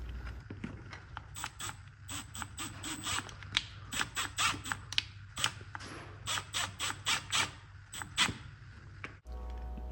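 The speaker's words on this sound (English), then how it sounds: "Now you can screw the bolts back in." Bolts being screwed back in on the mass air flow sensor of a Toyota Corolla, a close, quiet run of quick ratcheting clicks in uneven bursts ending with a soft clunk.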